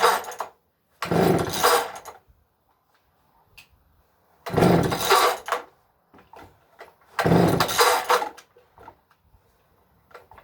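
A cold McCulloch chainsaw is pull-started without the choke three times, each pull giving a rough, roughly one-second burst of cranking engine noise separated by silence and small clicks, with the engine never catching.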